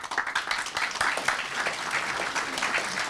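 A crowd claps at the close of a speech in San Francisco, with dense, steady applause from many hands holding at an even level through the whole stretch, a few sharper individual claps standing out near the front.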